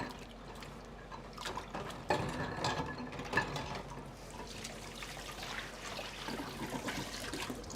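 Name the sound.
washing hands under running water at sink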